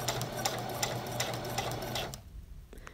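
A sewing machine runs steadily, stitching a pillow cover over basting stitches, with a rapid mechanical whir and clatter close up that stops abruptly near the end, leaving near silence.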